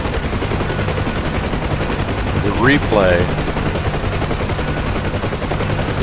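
Gunfire within the DCS flight simulator during a Huey UH-1 helicopter mission, a steady dense rattle of shots over engine rumble, with a brief voice in the middle.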